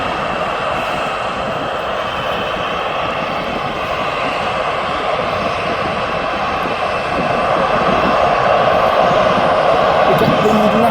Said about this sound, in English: So that Baku flight is the 777 freighter.